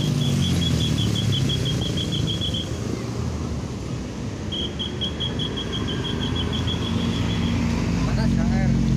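Trucks roll past with a continuous road rumble under people talking, while bursts of rapid, high, pulsing horn-like tones repeat twice.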